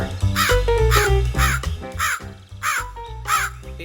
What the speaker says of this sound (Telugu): తన వెంటనే కాలు కాకి కూడా ఇంటి బయటకొచ్చింది